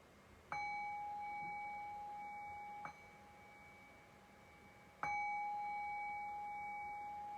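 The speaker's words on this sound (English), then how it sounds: "I'll cue that by ringing the bell 3 times" A meditation bell is struck three times, each strike ringing out clearly and decaying slowly into near silence before the next.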